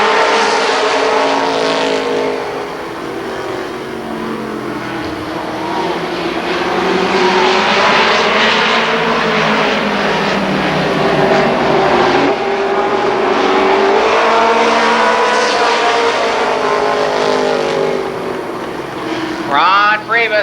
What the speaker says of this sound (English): 10 laps for your second NASCAR Winston Racing Series late model heat race